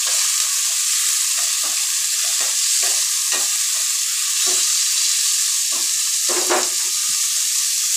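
Onion and green chilli sautéing in a hot pan, a loud continuous sizzle broken by repeated stirring scrapes at an irregular rhythm, close and alone with no voices.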